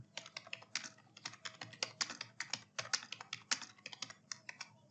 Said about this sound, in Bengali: এবার এখানে আপনি আপনার এমসিকিউ কোশ্চেনটা টাইপ করে দিবেন।